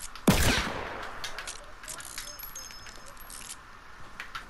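A single sharp gunshot cracks out early in a Fortnite Battle Royale match, followed by faint scattered clicks and quieter game sounds as the noise dies away.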